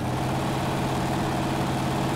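Steady, unbroken rumble of a pre-runner pickup engine idling in the off-road driving game Spin Tires, a low continuous drone with no break or change.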